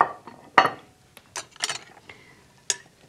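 Spoons clinking and scraping against a big white platter while a marinated mushroom and chicken salad is served out, scattered sharp clicks and taps with quiet gaps between, close up and without speech.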